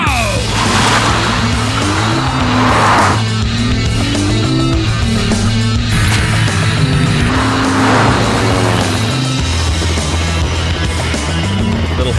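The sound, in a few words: Lexus GS car braking hard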